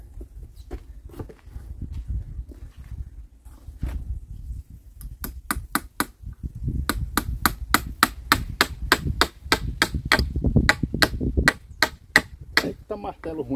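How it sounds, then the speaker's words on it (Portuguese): Nails are hammered into wood while building a pair of sawhorses. The strikes are sharp and close, sparse at first and then falling into a steady, fast run of blows, with a background voice. "Eita martelo ruim."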